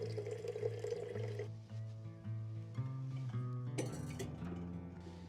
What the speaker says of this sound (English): Just going to start off by making some coffee.